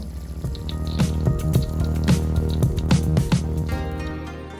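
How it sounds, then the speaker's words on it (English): Hot water pours steadily into a cup of spicy Korean instant ramen, a close, continuous liquid fill with small drips and splashes throughout, no voices. "Put the water in."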